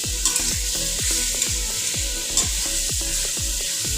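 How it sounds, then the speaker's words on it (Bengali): Bean seed paste spiked with green chili fries in a pan, a steady close sizzle broken by repeated scraping stir strokes in a regular rhythm, with no talking. "যেহেতু কাঁচা শস্যটা পেস্ট করেছি, সেজন্য একটুখানি ভেজে নিচ্ছি শস্যটাকে।"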